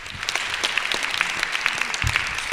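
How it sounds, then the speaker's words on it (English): An audience at a gubernatorial candidate forum claps steadily, a sustained round of applause with scattered louder claps and faint voices in the room. "should we give her a round of applause?"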